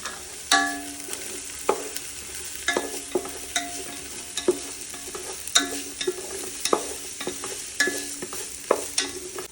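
Capsicum, garlic and ginger fry in a hot pan, a steady sizzle broken by repeated sharp scrapes and clinks of a spatule stirring, close and clear with no talking.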